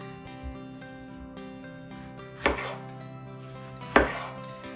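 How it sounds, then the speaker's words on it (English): A knife slices food on a cutting board, with two distinct thunking cuts about a second and a half apart. Steady background music plays underneath, and nobody speaks. "I'm gonna slice off those ends, and then I'm gonna put these in kind of just like medium slices."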